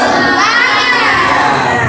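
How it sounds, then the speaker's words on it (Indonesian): Schoolchildren in a classroom perform the tepuk semangat cheer, a loud, close chorus of young voices shouting in unison for under two seconds. "sekarang anak-anak tepuk semangat"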